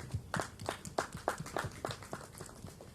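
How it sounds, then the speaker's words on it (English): A small audience at a business brunch in Port Harcourt claps in a thin, fairly steady rhythm, each clap distinct and soft, as if only a few hands join in, heard from some distance in a quiet room. "So I'd like to ask you for a round of applause"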